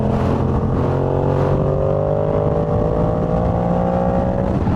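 Yamaha R7 motorcycle with a full-system aftermarket exhaust revving loudly up close, a steady throaty engine drone with rising pitch as the throttle climbs and then eases.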